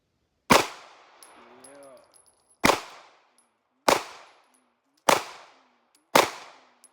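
Five sharp, loud gunshots from an MPA Defender firearm at a shooting range, fired singly with uneven gaps of about one to two seconds, each followed by a short ringing decay and a faint voice after the first shot.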